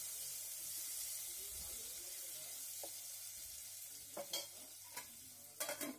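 Chopped tomato pieces tossed into a pot of upma and stirred, a quiet soft sizzle with a few sharp scraping and clinking strokes toward the end.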